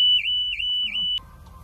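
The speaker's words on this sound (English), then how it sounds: "The car alarm went off" A car alarm blares loud and close, a steady piercing tone with three rhythmic warbling swells before it cuts off abruptly.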